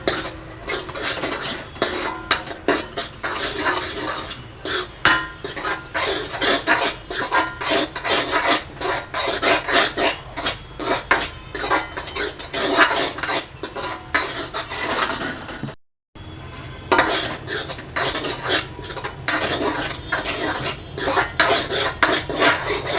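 A metal spoon scrapes and rasps steadily in a large kadhai as misal masala is stirred and roasted, a dense, continuous scratching with one brief silent gap near the end and no voices.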